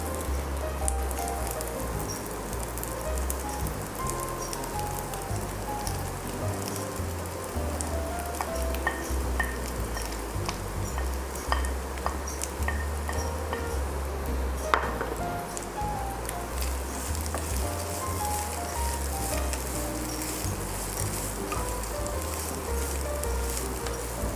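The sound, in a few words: chicken frying and stirred in a pan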